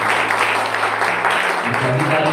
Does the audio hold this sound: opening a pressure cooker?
no